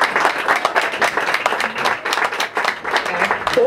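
An audience claps in a burst of applause at a public event, giving dense, moderately close clapping that fluctuates but never stops, with a few voices faintly mixed in.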